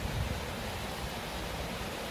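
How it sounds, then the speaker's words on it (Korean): A waterfall in the Twelve Fairy Bath valley of Inner Seorak, Seoraksan, Korea, rushes as a steady broadband wash of falling water, continuous and moderately close, with no voices over it. "폭포가 기네. 여기가 무슨 폭포인가 봐요."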